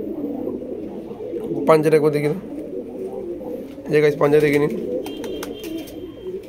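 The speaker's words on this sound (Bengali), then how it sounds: "ওই দেখে নিন পিওর কোয়ালিটির পায়রা" Rampuri pigeons cooing in a loft, a low steady murmur of coos broken by two louder bursts, with someone talking over them.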